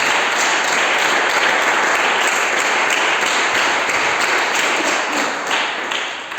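A church congregation breaks into loud, steady applause during a Spanish-language sermon, dense clapping that holds strong throughout before easing off at the very end.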